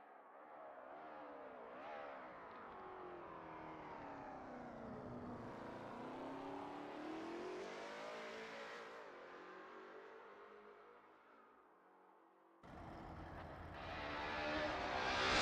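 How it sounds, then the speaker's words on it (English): A Lola T70 MkII Spyder race car engine at Spa in a racing video game, a steady sweeping engine note rising and falling in pitch through gear changes, dipping briefly before a louder, harsher burst near the end. "Wilson is getting to grips with the ASRL T70 MkII Spyder in this practice session"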